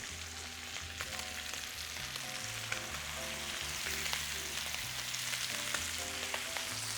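Lamb chops sear in a hot pan, giving a steady, dense sizzle and crackle that runs unbroken throughout, close and fairly loud with scattered sharp pops and no talk.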